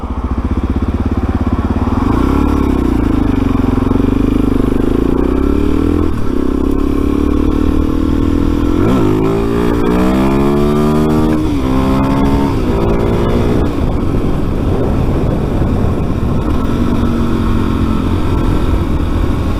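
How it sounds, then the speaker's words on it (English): A road motorcycle, not a supersport, accelerating hard. The loud, close engine note climbs in pitch through several gear changes over a continuous rush of wind and road noise. "The bike's acceleration, I mean, this is not even a super sport by any means, clearly. And it still starts off faster than anybody else does."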